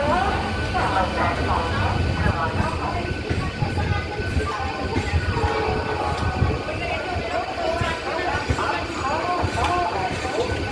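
A Howrah–Digha EMU summer special pulls out of Howrah platform 9 with a steady, moderately loud rumble and rattle of the coaches, and people talk faintly throughout.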